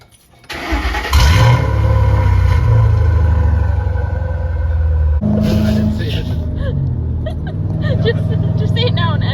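A car engine cranks and catches, then settles into a loud, steady idle that runs close by with a brief shift partway through; people talk over it.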